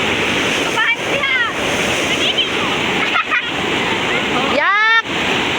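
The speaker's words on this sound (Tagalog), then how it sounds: "Ang Shokoy nagligo-ligo na." Loud, steady rush of river water with splashing from people bathing, broken by short bursts of voices and shouts close by.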